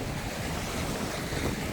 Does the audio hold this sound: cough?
no